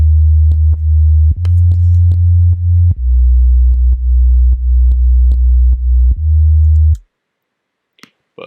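Plain synth sub bass sine wave with no modulation: a steady, deep tone holding long notes that shift pitch a few times, with faint clicks at note edges, then silence with a brief small sound at the end.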